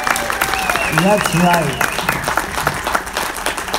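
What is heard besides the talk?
audience applause at a convention panel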